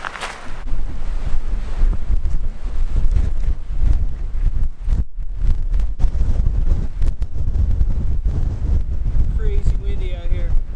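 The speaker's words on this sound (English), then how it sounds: "This wind is crazy." Strong, gusty wind on a backpacking trail along Arizona's Mogollon Rim, roaring and buffeting the microphone in loud continuous rumbles with brief lulls, while a voice speaks faintly beneath the gusts.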